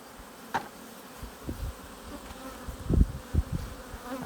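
Honey bees buzz around an open hive while frames are worked during installation of a two-queen split on a bee farm; a steady low drone carries scattered louder bursts and soft knocks, with no talking.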